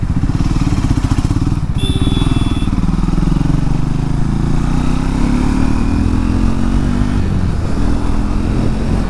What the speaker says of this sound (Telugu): 3rd గేర్ నుంచి పుల్ చేసినా కానీ ఎక్కడ కూడా ఇంజన్ నాకింగ్ లేదు